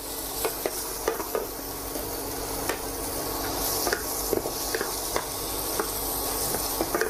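Chopped shallots sizzle and fry steadily in a pan, with frequent scraping stir strokes and light clinks throughout, close and alone with no talking.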